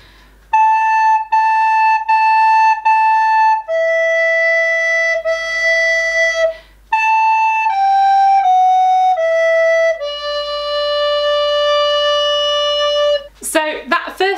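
Recorder playing the third line of a folk song in a beginner lesson, clear sustained notes including repeated same-pitch notes and falling phrases, played solo and close.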